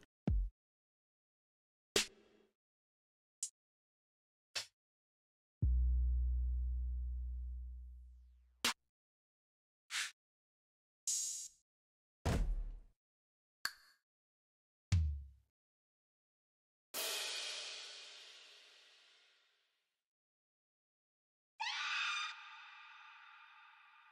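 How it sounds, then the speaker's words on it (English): Drum pad samples from iMPC Pro 2 triggered one at a time, a series of separate kicks, snappy hits, a booming bass note and noisy cymbal-like washes, each decaying into silence before the next. "one at a time, I'm going to hit each pad"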